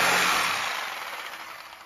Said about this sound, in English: that's the cut, the last cut of the sawzall I need